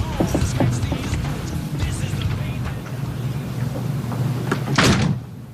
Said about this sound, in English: James slammed the door and walked out